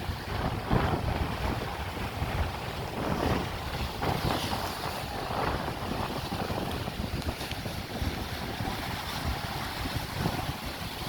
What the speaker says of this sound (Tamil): அடிக்கிற ஃபோர்ஸில் அலை நேராக மேலே எகிருது